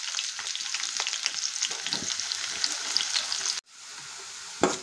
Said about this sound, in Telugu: ఆయిల్ వీటెక్కిపోయింది, కరివేపాకు వేసుకున్నాం, ఉల్లిపాయలు వేసుకుంటున్నాం